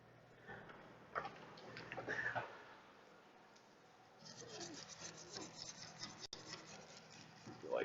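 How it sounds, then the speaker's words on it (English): Someone scrapes encrusted buildup off a car part in an automotive shop, giving irregular close rasping and rubbing strokes in bursts with brief pauses, fairly faint and alone. "just scraping off some of this crust"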